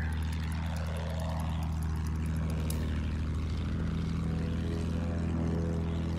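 A propeller plane flies in the video game Battlefield 1, its engine droning loud and steady with a deep rumble and a rising-then-falling whine as the aircraft maneuvers.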